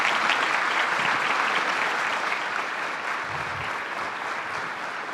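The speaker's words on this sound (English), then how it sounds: "Let's give him a round of applause." Conference audience applause at a regional state-of-the-region event, loud continuous clapping from a large crowd that holds steady and eases slightly toward the end, with no talk over it.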